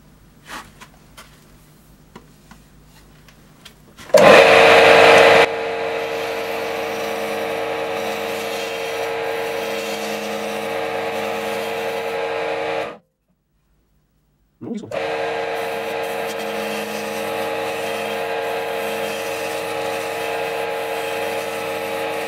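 A lathe tool cuts into a spinning maple wood blank being turned for chess pieces, making a steady loud scraping whir that starts abruptly, runs for several seconds, breaks off in a brief silence and then resumes.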